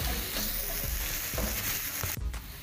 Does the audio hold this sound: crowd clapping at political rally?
no